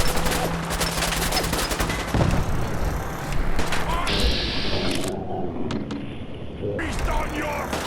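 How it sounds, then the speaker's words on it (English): A gun is drawn in the video game Fallout 4, a loud mechanical clatter and ratcheting burst over dense game noise, with a harsh metallic sweep midway, while a voice talks over it. "My guns aren't that loud, but pulling out my gun is."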